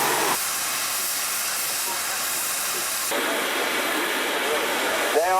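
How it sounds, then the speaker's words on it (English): A steam traction engine at a steam and traction society show, run at low pressure, gives off a constant loud hiss that steps up in intensity partway through, with a brief squeal near the end. "These steam engines only work at 60."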